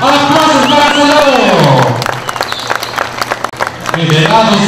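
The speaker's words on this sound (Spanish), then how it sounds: "¡Aplausos para el soldado!" A crowd claps and cheers for a boxer at a rural ranch boxing final in a Mixe village in Oaxaca, a steady wash of applause that follows an announcer's amplified voice and continues loud and close.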